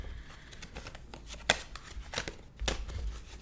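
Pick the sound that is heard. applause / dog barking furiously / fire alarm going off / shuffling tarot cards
shuffling tarot cards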